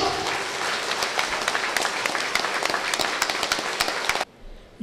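Crowd applause at an AIADMK IT-wing booth committee meeting in Perundurai: loud, thick clapping from many people with sharp individual claps standing out, cutting off abruptly near the end.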